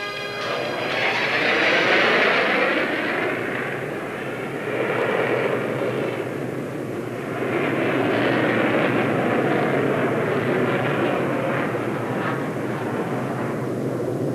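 A propeller warbird airplane drones steadily overhead, loud and broadband, swelling and easing as it passes, with no talk.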